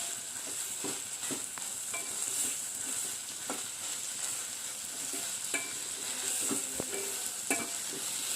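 Horse gram roasted in a pan, with soft, continuous frying crackle and repeated scraping stir strokes against the pan, fairly quiet and close, with no other sounds.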